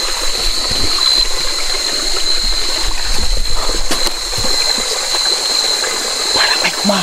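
A stream flows with a steady, close wash of water, with faint scattered knocks and rustles and a thin high tone running throughout.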